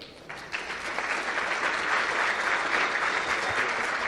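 A conference audience at PHP Day Curitiba 2018 applauds to welcome the closing keynote speaker, a dense, steady wash of many hands clapping that swells early and holds loud and even throughout.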